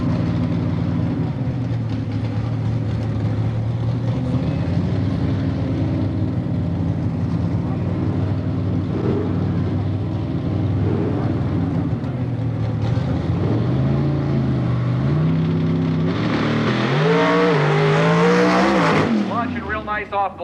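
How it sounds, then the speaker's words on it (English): A drag racing car with a Scott Shapiroff prep engine at Milan Dragway, roaring loudly and continuously close by, its engine note rising and falling before a surging, climbing burst of power as it launches down the quarter-mile strip. "Bill Neary from Illinois getting ready to head down the 1320 here at Milan Dragway with his Scott Shapiroff prep engine in the Prosecutor 2"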